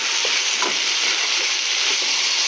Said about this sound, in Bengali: বেগুনটাকে এর সঙ্গে দিয়ে দিলাম, মশলার সঙ্গেও মেখে যাবে এবং কি বেগুনটা ভাজা ভাজা হয়ে সেদ্ধও হয়ে যাবে